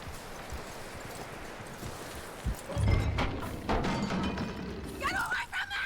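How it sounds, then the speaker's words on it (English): In the Red Dead Redemption 2 video game, horse hooves clip-clop on the ground, rising into a run of heavier thuds midway, while characters talk over the hoofbeats. "That looks like a decent horse."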